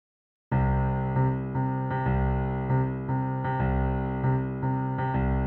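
Piano plays the main section of a song after a moment of silence, with a steady run of repeated chords in an even pulse, near and clear with no talking.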